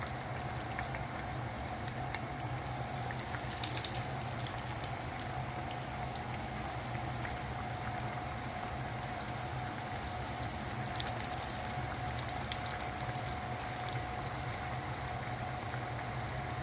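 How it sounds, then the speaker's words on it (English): Cardamom coconut mahamri dough pieces frying in hot oil, a steady close bubbling sizzle that runs evenly throughout without any talking. "So you just drop them in the oil."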